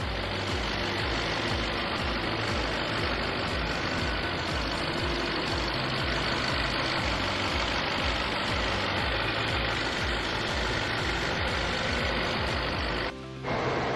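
A 2021 Audi RS6's engine idles close up with a constant rattling rumble, unbroken for the whole stretch until a brief dip near the end.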